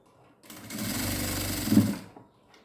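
A sewing machine runs in one steady burst of about a second and a half, stitching a sleeve design on a blouse with lining cloth underneath, close by and alone.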